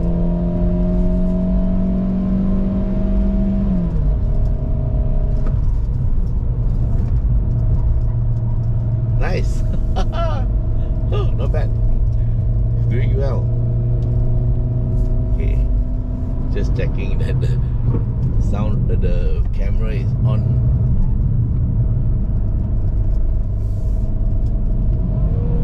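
A GAC GS3 SUV with a 1.5-litre naturally aspirated engine and six-speed automatic climbs a hill, a steady loud engine drone rising in pitch before an upshift drops it, with people talking inside the cabin.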